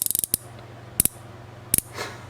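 An Icon 1/4 inch roto ratchet clicks in sharp, close bursts: a quick run of rapid clicks, then single and doubled clicks spaced about a second apart over a low steady hum.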